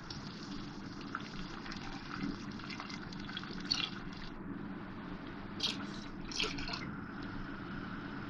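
Milk pours into a pan of fried vermicelli for sheer khurma, a steady soft gushing flow that runs throughout, with a few faint clinks over it.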